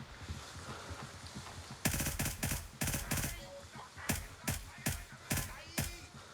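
SIG MCX 9-inch rifle in Gray Zone Warfare firing a burst of rapid shots, then several evenly spaced single shots, loud and close over a low background ambience.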